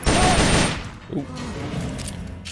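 A burst of rapid gunfire in Metal Gear Solid: Peace Walker, a loud rattling volley aimed at a box that fades after about a second, with quieter game noise following.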